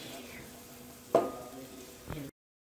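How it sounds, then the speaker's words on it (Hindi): Onions sautéing in oil in a pan, a quiet, steady sizzle with two sharp utensil knocks before it cuts off abruptly. "ये हमने ऑयल डाला, इसमें हमने प्याज सौते कर ली।"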